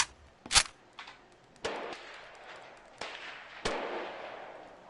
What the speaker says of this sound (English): VR firing a bunch of guns